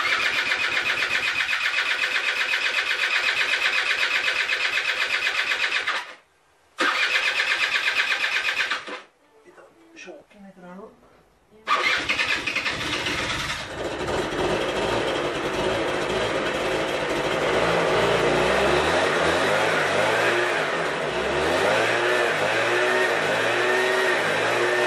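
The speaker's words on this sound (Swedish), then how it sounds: "Broms på nu och nyckel på." Suzuki LT80 quad bike engine starting after a few cranking tries, then running steadily and loudly up close with a rough idling drone that rises as it revs.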